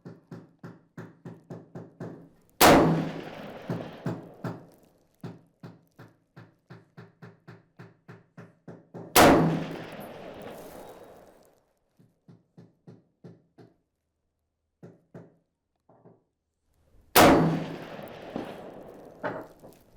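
Springfield M1A rifle firing at a 300-yard range: three loud, sharp gunshots spaced several seconds apart, each with a brief rolling echo, between quieter rhythmic clicking and handling sounds.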